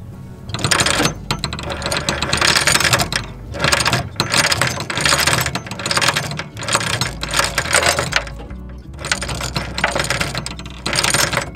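A boat's anchor chain is let out by hand at anchor, giving a loud, continuous metallic rattling and clanking in bursts with short pauses between them, close by.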